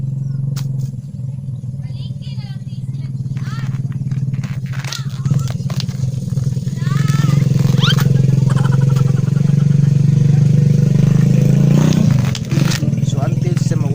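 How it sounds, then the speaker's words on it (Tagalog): A loud motorcycle engine idles and revs nearby with a deep steady drone, rising in intensity midway, while someone talks over it. "Nasa dalang motor tingog."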